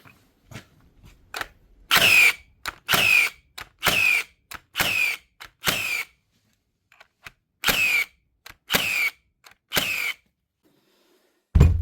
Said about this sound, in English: The new Hikoki cordless concrete nail gun, the NC 1840 DA.